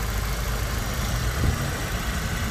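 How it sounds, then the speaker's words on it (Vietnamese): A 2013 Chevrolet Aveo with automatic transmission idles smoothly and steadily, a low, even engine hum that stays constant throughout with no voices. "Máy nổ cực êm."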